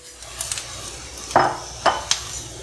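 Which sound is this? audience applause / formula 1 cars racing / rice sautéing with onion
rice sautéing with onion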